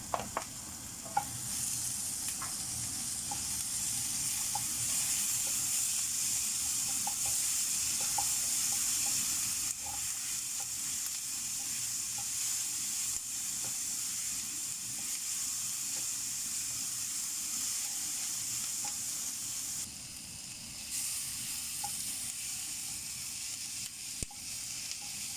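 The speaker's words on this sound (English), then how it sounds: "So the garlic and the onion are already slightly brown." Garlic and onion fry in a pan for a homemade fresh tomato sauce, sizzling in a steady, bright hiss that runs throughout, with faint stirring clicks.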